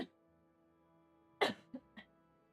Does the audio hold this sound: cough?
yes